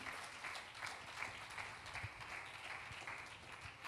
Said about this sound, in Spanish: Dele aplauso al Señor si es para Él.